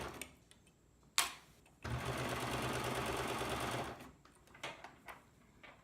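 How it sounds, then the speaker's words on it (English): A Baby Lock serger stitching a lace inset seam on knit fabric runs in one steady loud two-second burst, with quieter handling clicks and rustles before and after and a brief word spoken. "I'm rolling along"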